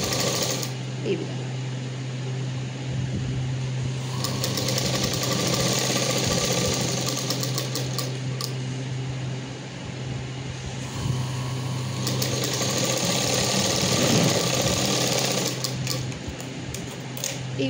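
Sewing machine stitching a seam on a short frock, running in a steady continuous whir with brief pauses around the middle, fairly close and loud, with a low hum underneath.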